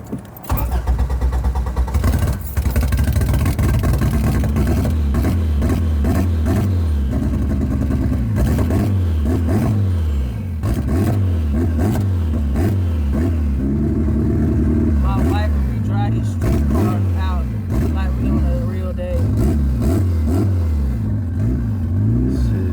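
A budget F2B turbocharged Honda Civic at a local car event cranks over and fires, then revs repeatedly with rising and falling engine pitch, loud and close, while people talk nearby.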